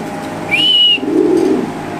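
A racer pigeon gives a short, clear whistle-like call and then a low soft coo, close by and isolated over a faint background.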